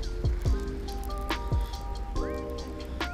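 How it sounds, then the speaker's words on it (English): Rain patters steadily on a lake surface with scattered sharper drops and drips close by, a continuous wet hiss under a few faint tonal sweeps. "Oh, here comes the rain."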